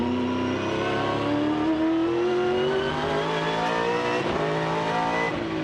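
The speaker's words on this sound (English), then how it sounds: "Listen to the way that this Pertec 4 is throwing the power down." A 2002 V8 Supercar race car engine at Phillip Island circuit, loud and near, revving hard with a steadily rising pitch as it pulls through a corner, with no talk.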